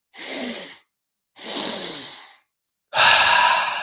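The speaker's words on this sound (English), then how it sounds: "Let's take 3 more breaths. 2 more breaths." Deep breaths during a breathwork session for mountain athletes: three long, forceful exhalations or inhalations, each about a second, with short silent pauses between. They are loud and close, with no speech.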